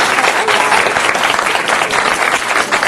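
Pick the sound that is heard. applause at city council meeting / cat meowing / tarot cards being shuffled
applause at city council meeting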